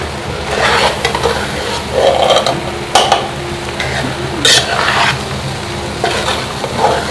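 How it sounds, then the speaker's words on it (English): Ingredients in a pot are stirred evenly over frying sizzle, with repeated scraping sweeps of a spoon and occasional clinks against the pot, close and loud. "So you make sure you stir evenly so we don't have some parts having more ingredients than the other parts."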